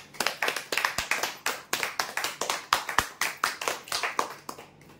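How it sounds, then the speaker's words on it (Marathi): An audience claps loudly for a winner at a weekly prize draw, a dense, continuous round of close applause lasting several seconds before it tapers off at the end. "जोरदार टाळ्या होत्या यांच्यासाठी।"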